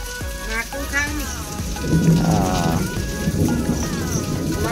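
Rain and thunder during a monsoon downpour at Raja Sankranti, heard as steady rain on surfaces with a low rumbling roll, loud and continuous, while background voices and music-like tones run underneath.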